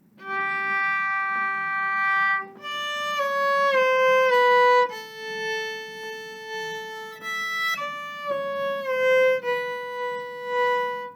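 A solo violin plays a slow melody from Beriot's Air Varie, sustained bowed notes, clear and close, moving stepwise with a few short pauses.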